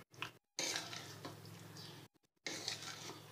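A spoon mixes fruit custard trifle in a bowl. The soft, wet scraping comes in uneven strokes broken by brief silent gaps, and it stays close and quiet.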